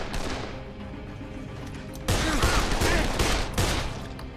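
Gunfire in the zombie video game Dead Island: a dense, continuous burst of shots with a louder barrage partway through, close and harsh, and no talking.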